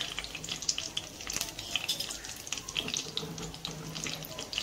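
Curry leaves and coriander powder fry in hot oil for a drumstick curry, giving a steady, faint, crackly sizzle throughout with scattered small pops and no voices.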